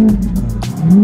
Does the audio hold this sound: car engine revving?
yes